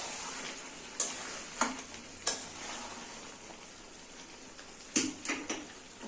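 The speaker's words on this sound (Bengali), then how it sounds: "মাঝে মাঝে এটা নেড়ে নিতে হবে যাতে না নিচটা লেগে যায়" Chicken kosha with potatoes cooking in a pan, a soft steady sizzle under occasional sharp clinks and scrapes of a spatula against the pan, a few spaced strokes and then a quick cluster, close and moderately quiet.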